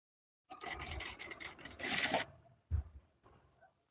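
A sewing machine stitches piping onto garment lining in a couple of quick close-up bursts, a sustained run then two short stabs of stitching, with no talking.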